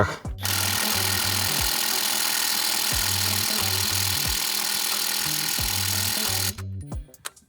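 A Dnipro-M cordless impact wrench set to 400 Nm hammers a nut tight through an extension, a loud rapid rattling run in several bursts that lasts most of the clip before stopping near the end.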